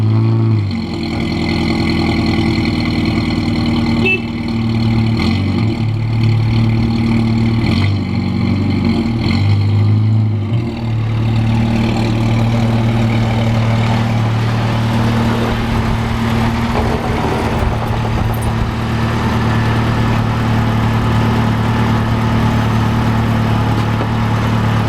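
Nissan Navara ute with a 4-cylinder petrol engine running steadily close by while backing out, tyres scrubbing, a continuous loud mid-pitched drone with slight shifts in tone and no talk.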